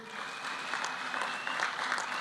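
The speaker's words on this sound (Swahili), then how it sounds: "mpigieni makofi" Applause from a crowd at a public gathering where government ministers are being introduced, a steady wash of clapping held at moderate distance for the whole stretch, with no voices over it.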